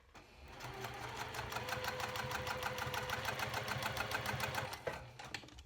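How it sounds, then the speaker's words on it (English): A sewing machine stitches a zipper onto a tall fabric wallet, running in a fast, steady rapid-fire rhythm for several seconds before stopping abruptly, close and alone. "And now I'm going to sew my zipper."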